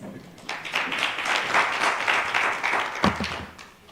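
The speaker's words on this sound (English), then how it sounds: "A round of applause." Applause from an audience at a media and sustainability summit, a crowd clapping steadily at moderate loudness for a few seconds before a sharper thud and a fade as the clapping dies down.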